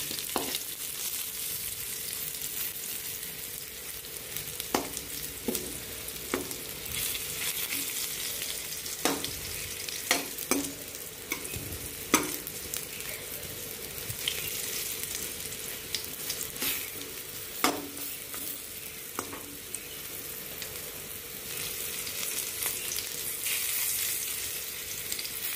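Paneer wrapped in leaves frying in oil, a steady close sizzle with scattered sharp pops and crackles throughout, no talking.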